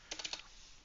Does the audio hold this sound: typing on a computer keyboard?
yes